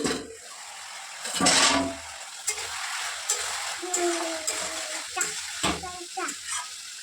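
Vegetables cooking in a pan, a soft sizzle with stirring scrapes and clinks of utensils against the pan, moderately close, while someone talks over it.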